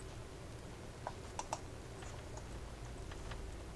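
A few scattered, quiet computer keyboard and mouse clicks during website building, including a small cluster of taps near the middle, over a low steady room hum with no talk.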